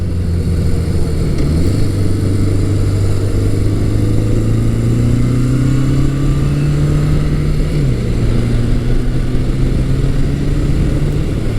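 A classic 1100cc muscle motorcycle engine, a Suzuki GS1100 or Yamaha XS1100, pulls hard out of corners with steady loud revving, its pitch climbing, dipping at a gearshift near two seconds and again near eight.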